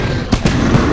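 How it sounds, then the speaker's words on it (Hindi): Cartoon fireworks pop in a few sharp bursts over a dense, loud crackling background, with three distinct bangs within a second. "तुम्हें जॉन की आतिशबाजी पसंद आई है ना?"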